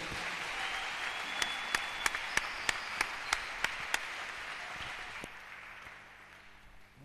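A church congregation applauding during a sermon, a dense wash of clapping with a few sharp rhythmic claps standing out, moderately distant, fading toward the end.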